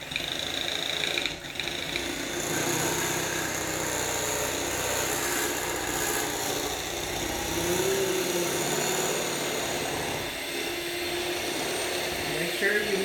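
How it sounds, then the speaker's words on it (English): Whisk beating cake batter vigorously, a loud continuous whirring, rattling noise from a mixing bowl held steady for the whole stretch, briefly dipping near the start, with a voice speaking faintly underneath. "if you have a whisk, like so, you need to beat it vigorously for 2 minutes."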